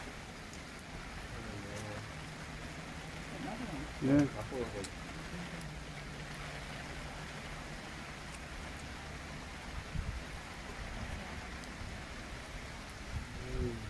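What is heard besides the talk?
heavy rain during Brisbane floods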